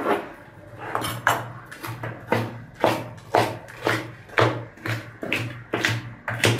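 A knife chops pork on a cutting board in a home kitchen, about a dozen sharp, evenly spaced knocks on wood, close and clear, with a faint background hum between strikes.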